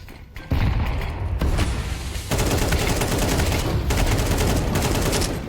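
Rapid automatic gunfire sprayed in Counter-Strike 2, a loud, dense continuous burst of shots after a brief quiet start, with a short break before the spray resumes.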